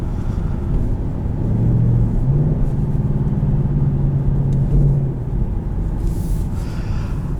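A 2019 Ford Mustang GT California Special on its stock exhaust gives a deep, steady V8 rumble, loud and close, with the engine note swelling slightly in the middle before easing off.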